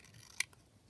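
A single short snip of scissors cutting around kit pieces, crisp and close, in an otherwise quiet room.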